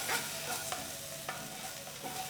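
Ginger garlic paste and golden-browned onions frying in a pan for stuffed bitter gourd, a steady close sizzle broken by a few light stirring scrapes and clicks, with no voices.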